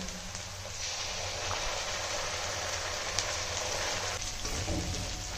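Ginger garlic paste hitting deep red fried onions in a pan gives a steady, broadband sizzle that holds fairly loud from start to end, with a few faint clicks near the close and no talking.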